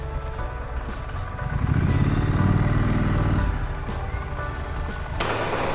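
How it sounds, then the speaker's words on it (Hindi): Motorcycle arriving at a gurudwara in the hills after a 118 km ride from Pithoragarh rumbles close by, its engine swelling briefly as it rolls to a stop before settling down. "भैया बाइक तो यही खड़ी करनी है ना।"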